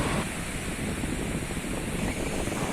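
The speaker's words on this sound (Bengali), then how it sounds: "এই যে তুফান বা তরঙ্গমালার যে শব্দগুলো হচ্ছে, সেটি কিন্তু শো শো করেই আওয়াজ হচ্ছে।" Ocean waves breaking on Kuakata beach, a continuous roaring wash of surf with wind buffeting the microphone, loud and close with no voices.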